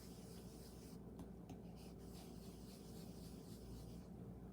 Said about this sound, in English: just rub some of it off on your paper